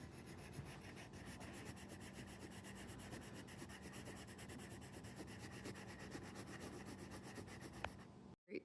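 Steady, quiet rubbing as the back of a drawing is scrubbed to transfer it onto a surface, a close, soft, continuous friction with faint rhythmic strokes and no voices.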